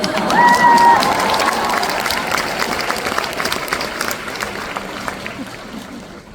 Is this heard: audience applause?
yes